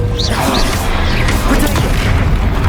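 Confringo spell explosion in the Hogwarts Legacy video game, a dense, loud stretch of booms and crashes with whooshing spell effects layered over continuous battle noise.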